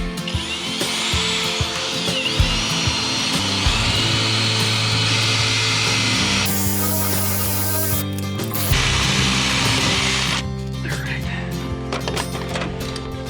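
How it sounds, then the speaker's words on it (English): A power drill bores a new hole during wiring work in a modern farmhouse after insulation is installed, whirring and ratcheting in uneven bursts with short pauses and a brief spray-like hiss. "now I'm gonna drill a new hole"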